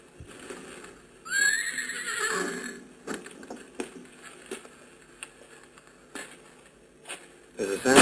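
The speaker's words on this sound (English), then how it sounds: "The horses are very restless." Restless horses neigh and whinny, a loud shrill call near the start followed by shifting hooves and stable noises, with brief speech-like sounds mixed in.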